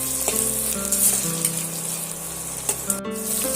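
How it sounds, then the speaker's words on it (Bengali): Tomatoes fry in oil with salt in a pan, sizzling steadily up close, with a couple of sharp utensil clinks and scrapes from stirring partway through. "এই সময় নুন দিলে টমেটোটাও সুন্দর করে ভাজা হয়ে যায়"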